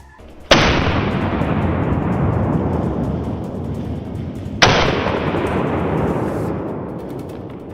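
Two loud rifle shots fired by a hunter at a wild boar in an open field, each a sharp crack followed by a long rolling echo, spaced about four seconds apart.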